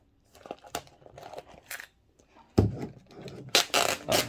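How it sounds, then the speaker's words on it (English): Protective plastic film peeled off a Samsung Galaxy Tab S7+ during unboxing, with soft crinkles and crackles early on, then louder, sustained peeling and crinkling in the second half, close up with no talk. "So in the back, we can peel it."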